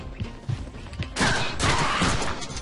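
Gunfire bursts in the Deadpool video game, a loud fusillade of shots with thuds and crashes, swelling around the middle and carrying on to the end.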